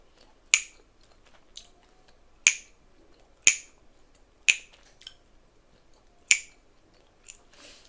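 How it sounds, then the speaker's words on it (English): Chewing gum snapping between the teeth, with six sharp, loud, isolated cracks spaced about a second apart and a few fainter clicks between them, no talking. "once it bites on it, you would hear the crack sound"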